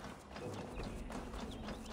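Horse hooves clip-clop in a quick steady rhythm over a dense wash of background noise, moderately close, in the video game Assassin's Creed Valhalla.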